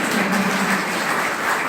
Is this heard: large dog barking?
no